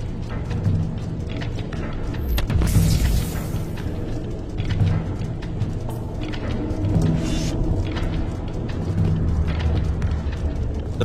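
A disintegrator weapon fires repeatedly in a video game, loud booming blasts and crackling rumbles layered over continuous game noise, with a sharp burst near the start and sustained low rumbling throughout.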